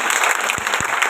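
A seminar audience in a Delhi hall bursts into loud, dense applause, a steady wash of many hands clapping together with no voices over it.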